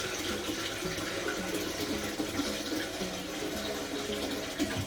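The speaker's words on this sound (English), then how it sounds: "fill the bowl with cold water" Cold tap water runs steadily into a bowl in a kitchen, a continuous close splashing rush that fills the whole clip without pause.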